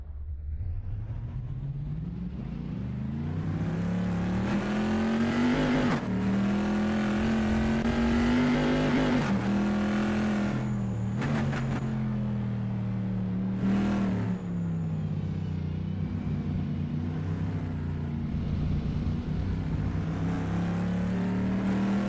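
A pre-1973 Bizzarrini race car lapping the Imola circuit through Piratella during qualifying, its engine a loud, close, steady roar rising and falling in pitch with gear changes, sustained throughout.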